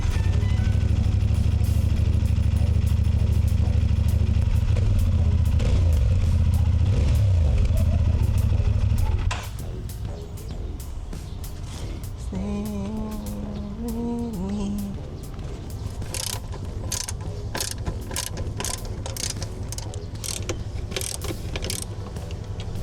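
CFMoto 450SR motorcycle with its stock exhaust, heard indoors in a bedroom: a loud, steady low engine drone that drops to a lighter, clattering idle partway through, with faint mechanical ticking and brief tonal chirps.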